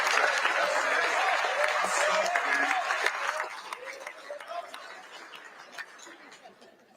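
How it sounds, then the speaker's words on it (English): A crowd of fans applauds with scattered chatter and laughter, loud at first and then gradually tapering off. "Let's give a big round of applause."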